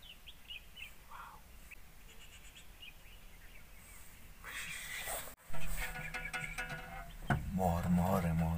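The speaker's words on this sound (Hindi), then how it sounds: "चिड़िया का आवाज" Scattered bird calls and chirps sound faintly at a distance near water where peacocks are present, followed by louder rustling and handling noise near the end.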